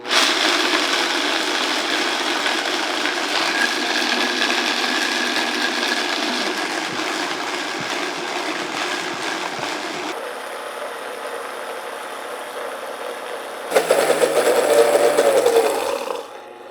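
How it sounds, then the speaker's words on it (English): A food processor grinding two cups of hazelnuts into paste for homemade hazelnut spread, a loud continuous motor whir with gritty churning that shifts in tone midway, then a brief higher-pitched burst before winding down, heard close without talk. "now we want to grind up our 2 cups of hazelnuts, and we want to grind it up into a paste"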